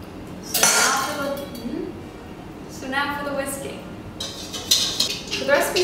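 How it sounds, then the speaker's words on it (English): Butterbeer mixture of sugar, butter and vanilla extract whisked fast in a bowl, producing scraping and clinking bursts of utensil against the bowl, close by, with a voice talking in between. "we're just gonna whisk really fast and for probably a long time"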